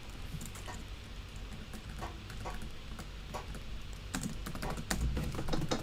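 Rapid keystrokes on a computer keyboard clatter in an uneven stream, close and moderately loud, with no speech.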